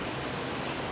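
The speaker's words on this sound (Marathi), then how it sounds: "पाऊस आलाय." Unseasonal rain falling outdoors during a bike wash, a steady dense hiss of drops on surfaces with no voices, even and continuous through a very short stretch.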